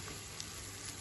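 Chicken sausages with onion, garlic and black pepper frying in a pan, a soft continuous sizzle with a faint tap of stirring, quiet and without voices.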